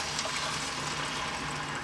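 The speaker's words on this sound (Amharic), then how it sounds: "ውሃ እንጨምራለን።" Water pouring into a simmering Ethiopian fish stew sauce seasoned with berbere, a steady soft liquid wash with no talk over it.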